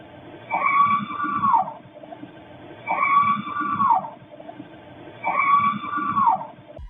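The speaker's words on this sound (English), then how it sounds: "another blood-curdling scream." Three long, rising-then-falling screams repeat at steady intervals, each lasting about a second and a half, with a muffled low rumble underneath.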